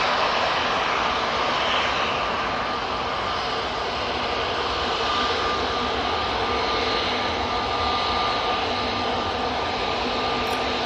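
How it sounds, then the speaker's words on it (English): Airliner engines roar steadily at Manchester Airport, a loud, broad, sustained jet rumble with a thin whine running through it, holding constant throughout without any voices. "Beautiful looking aircraft."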